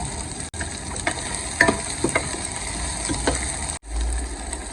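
Garlic, ginger and finely chopped onions sizzle and hiss in hot oil for a fresh turmeric and cauliflower sabzi, with stirring scrapes and brief breaks in the frying.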